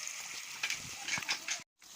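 Onions frying in hot oil with a spoonful of salt make a continuous close sizzle with faint crackles, briefly cut off near the end.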